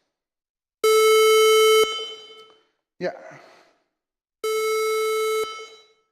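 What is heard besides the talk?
harsh synthesized oscillator tone generated in Ruby code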